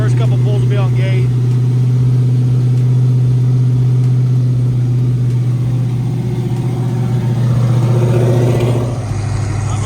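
Heavy low drone of a big-turbo 5.3-liter V8 in a Mustang running on a dyno under wastegate boost, loud and steady throughout before dropping off near the end, with voices faintly underneath.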